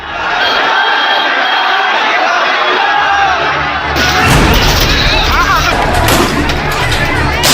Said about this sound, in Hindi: हजारों की भीड़ का जबरदस्त हंगामा।